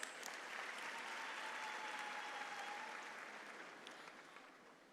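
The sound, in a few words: audience applause for sponsors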